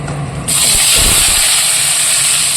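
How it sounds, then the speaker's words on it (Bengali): Onions drop into hot oil with tej patta and whole garam masala, bursting into a sudden loud, steady sizzle after a short quieter moment. "এদিকে তেল গরম হয়ে গেছে, দিয়ে দিলাম পেঁয়াজ।"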